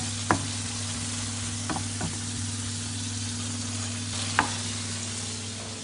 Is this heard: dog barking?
no